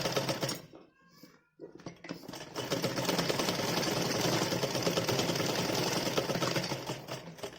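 A sewing machine stitches elastic onto a child's Holi dress, its needle running in a steady, fast mechanical chatter that stops briefly near the start, then resumes and hums on continuously and close.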